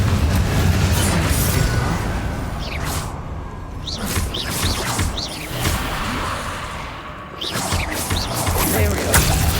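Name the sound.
explosion from the Confringo spell in a video game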